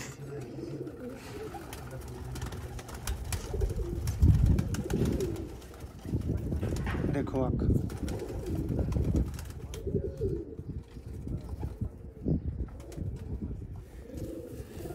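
Sialkoti rooftop pigeons coo in soft repeated bursts from nearby, with a brief flutter of wings, while someone speaks briefly over them.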